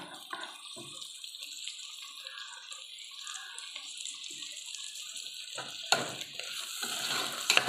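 Tomatoes fry in a pan for vegetable biryani and get stirred, giving a steady soft hiss with scattered scraping clicks and a few louder knocks toward the end.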